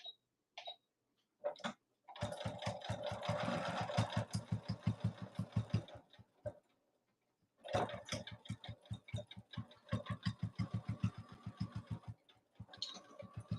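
Stop-start bursts of a sewing machine stitching a mini lay flat bag, with a long steady run, brief pauses, then a string of rapid separate needle strokes, close and fairly quiet.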